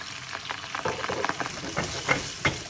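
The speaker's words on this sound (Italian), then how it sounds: "Passato un minuto, sfumiamo col vino bianco" Shrimp and garlic frying hard in a hot pan over high heat, with white wine splashed in to deglaze; a steady close sizzle with crackling bursts and spatters throughout, no talking.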